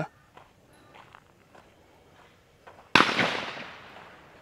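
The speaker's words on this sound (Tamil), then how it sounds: "துப்பாக்கி சுடுகிற சத்தங்கள் எல்லாம் உங்களுக்கு கேட்டுருக்கும்" A single sharp gunshot cracks at an Australian gun club shooting range, close and loud, with a ringing decay after it. Faint footsteps and handling noises come before it.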